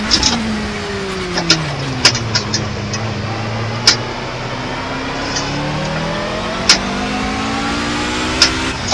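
A race car engine in the video game Project Cars revs and drones through gear changes, its pitch rising and falling steadily, with sharp ticks and clicks over the top and no talk.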